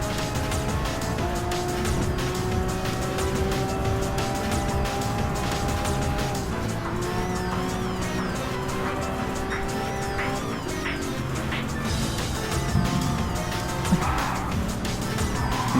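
Chevrolet Camaro race car driven hard while chasing a Porsche, its engine droning and shifting pitch continuously, with brief tyre squeals and bursts near the end, close and sustained without talk.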